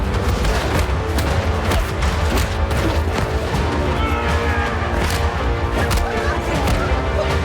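Gunfire from a fan film in a dense, loud mix of repeated shots and crashes over a busy soundtrack, with no clear pauses.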